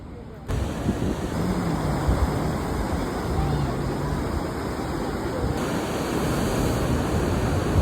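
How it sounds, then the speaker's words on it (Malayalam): Sea waves at Pallikkara beach near Bekal Fort in Kasaragod, a steady broad wash of surf that holds for most of the stretch after an abrupt start, with a high steady tone above it. "കടലെത്തി ഗൈസ്."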